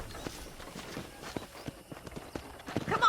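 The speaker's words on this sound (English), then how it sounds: "I picked out a fine horse for you." A horse's hooves clip-clop at a walk in Red Dead Redemption, soft rhythmic thuds on a ranch property amid faint ambient noise.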